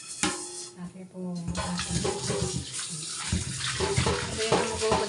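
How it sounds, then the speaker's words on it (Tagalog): Tap water runs and splashes while dishes are scrubbed and rinsed by hand, a steady wash with clinks of plates and utensils throughout, and a voice speaking now and then over the noise. "Naghuhugas ako ng plato ako."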